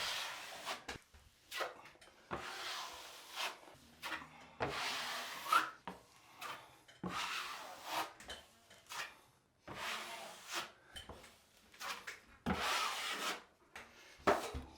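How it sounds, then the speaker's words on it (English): A drywall knife spreads mud across a bathroom wall during a remodel, giving repeated close scraping, rubbing strokes in a steady rhythm with short pauses between passes. "So I'm just going to mud this side of the wall."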